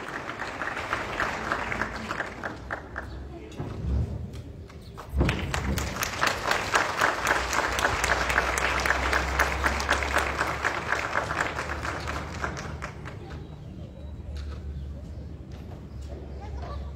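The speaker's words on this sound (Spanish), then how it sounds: "El aplauso para el compañero Sergio Alberto Oliver Lebus." Audience applause at a public ceremony handing out breast prostheses, continuous crowd clapping with a brief dip partway through, then a louder, fuller surge that carries on steadily to the end.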